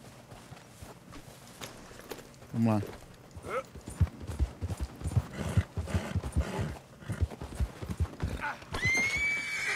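Horse hooves clip-clopping and a sharp neigh from a rider's mount in the Red Dead Redemption 2 video game, with someone talking over the hoofbeats throughout and a bright whinny standing out near the end.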